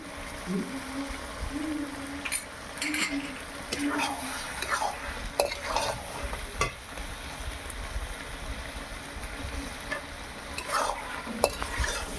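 Mutton with salt is sautéed and stirred in a pan while making a Gobindobhog rice pulao. A spatula scrapes and clatters repeatedly over a soft, steady sizzle, close and moderately loud.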